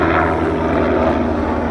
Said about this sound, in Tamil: ஹெலிகாப்டர் போகுதுங்க பாரு, ஹெலிகாப்டர் டூரா பாரு, மவுண்ட் எவரெஸ்ட் ஹெலிகாப்டர் டூருக்கு போகிறது.